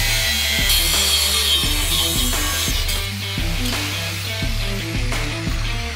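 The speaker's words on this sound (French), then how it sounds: "Donc on va couper le deck en 49" A skateboard deck is sawn to length by hand, rhythmic back-and-forth rasping strokes about twice a second, close and fairly loud, with no talking.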